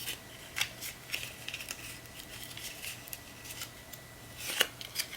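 Scissors cutting thick paper at a desk while making collage ephemera, giving a few soft, crisp snips and rustles that stay faint and close, with quiet pauses between cuts and no talking.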